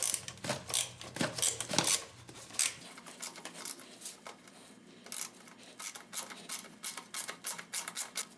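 A ratchet clicks rapidly in short bursts while loosening a 10mm bolt on a Honda Accord, the close, sharp metallic ticks repeating with brief pauses, with no talking.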